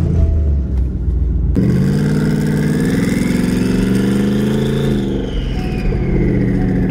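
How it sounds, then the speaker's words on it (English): A manual Ford Mustang race car engine, the mud-racing Mustang, cranks and fires up loudly, then settles into a rough, lumpy idle with a brief rev partway through, close and dominant. "you have to push the clutch in to start it because it was a manual car"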